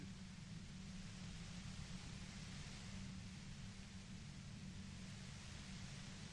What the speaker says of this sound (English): You hear through the white noise. It's especially bad suddenly.